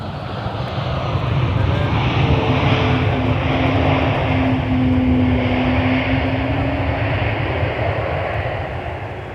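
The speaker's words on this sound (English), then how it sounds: "Endeavor Air Flight 5249 arriving from Sioux Falls." Endeavor Air airliner arriving at Minneapolis–Saint Paul airport, a steady jet engine roar with a rising then falling whine that swells and fades, fairly close, without talking.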